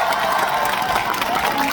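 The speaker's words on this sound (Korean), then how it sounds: "여러분 박수 한번 주세요." A dense, continuous wash of audience applause and crowd noise at a live Korean interview event, loud and sustained throughout with no gaps.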